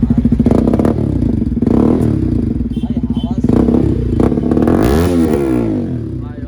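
A Bajaj Pulsar NS200 motorcycle with an Akrapovič replica exhaust and no dB killer starts for the first time and roars loudly up close, with throttle blips and a sharp rising rev near the end while voices talk over it.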